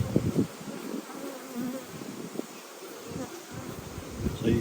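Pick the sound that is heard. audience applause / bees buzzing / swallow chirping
bees buzzing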